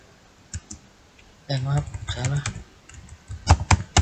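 Keys clack on a computer keyboard while code is typed, a few scattered clicks early then a denser burst of keystrokes near the end, with someone talking through the middle.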